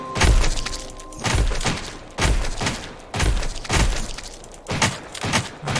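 A basic shotgun converted from a pistol fires in the survival roguelite When The Light Dies, about six heavy booming blasts at a steady, roughly one-second rhythm, loud and close with no talk.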